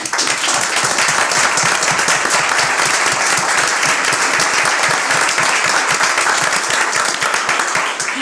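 Loud, sustained applause from a crowd at a school board meeting, dense clapping that fills the whole stretch without pause.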